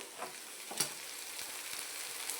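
Leftover chapati pieces roast in a spiced tempering in a pan, giving a soft continuous sizzle with a few light stirring scrapes, faint and close, with no talking.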